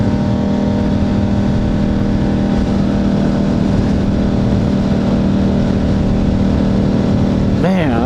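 A 2009 Buell 1125R motorcycle cruises a freeway at about 80 mph and 5,000 RPM, its engine a steady, loud droning hum with constant wind rush, unbroken throughout; a short warbling sweep briefly rises near the end.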